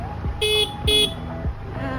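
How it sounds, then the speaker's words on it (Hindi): A scooter horn honks twice in quick short bursts, close and loud, over a running engine, in a jungle. "हॉर्न बजाना है"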